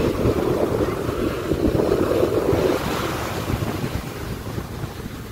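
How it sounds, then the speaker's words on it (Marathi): Indian Ocean surf rolls onto the sandy beach at Kanyakumari, India's southern tip, a steady loud wash of breaking waves with wind buffeting the microphone throughout. "कशा वाटतात लाटा?"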